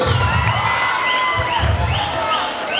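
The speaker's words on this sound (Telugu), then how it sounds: "మీరు గట్టిగా క్లాప్స్ కొట్టాలండి" A large crowd of college students cheers and shouts loudly, a continuous roar with whoops rising above it.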